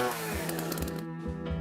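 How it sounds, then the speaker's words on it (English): A chainsaw effect inside a snoring advertisement: a loud, steady engine buzz with a rough rising and falling rev, running alone for under two seconds. "With a chainsaw."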